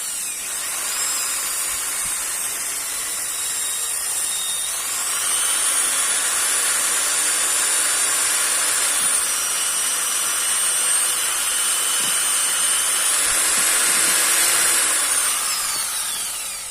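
An electric drill runs steadily as it stirs moulding compound for making a model RC boat mould, giving a loud, continuous whine and grinding hum that rises and falls slightly in pitch over a long stretch.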